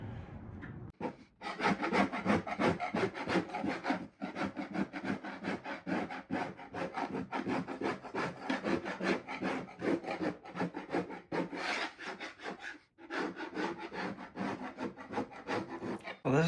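A 5-in-1 tool scrapes steadily over a damaged surface before an acetone wipe, a close, continuous rasping rub in repeated strokes with brief pauses near the start, at four seconds and around thirteen seconds.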